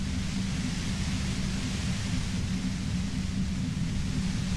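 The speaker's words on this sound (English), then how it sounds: "You hear through the white noise. It's especially bad suddenly." White noise static in the video game Disco Elysium, a constant hiss with a heavy low rumbling underlayer, steady and unbroken with no voices.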